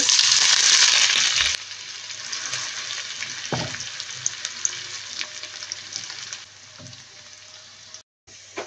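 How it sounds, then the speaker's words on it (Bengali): Whole cumin, dried chilli, chopped onion and garlic hit hot oil with a loud burst of sizzling, then settle into a softer, continuous frying crackle with occasional stirring scrapes, fading quieter toward the end. "আস্ত জিরে আর শুকনো মরিচটা একটু ভেজে নেব।"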